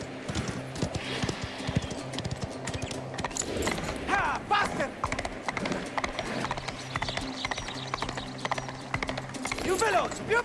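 Rapid rhythmic hoofbeats clatter steadily, a horse galloping in the video game Mafia: The Old Country with occasional mechanical clicks and a whinny, while a voice talks over it.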